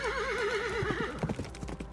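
Horses neigh with a long wavering whinny, then hooves clip-clop in an uneven run, loud and close, on a battlefield strewn with overturned carriages in the game The Life and Suffering of Sir Brante.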